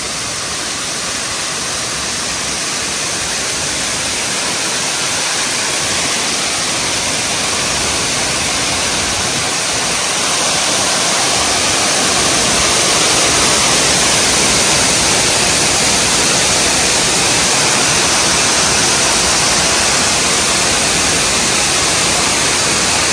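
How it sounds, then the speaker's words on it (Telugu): Water cascading down inside a factory cooling tower, a steady, dense broadband rush that stays loud and unbroken throughout, with no other sounds standing out. "మీద నుంచి కిందకైతే వాటర్ పడుతుంది."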